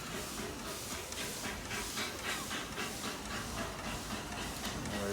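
A train at Paignton station gives off a steady broad hiss and rumble as it gets moving, sustained at moderate volume with no talk over it.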